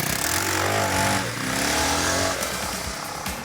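A 1997 BMW F650 motorcycle ridden off-road on the wrong kind of tyres, its single engine droning loud and steady up close with throttle surges throughout, no talking.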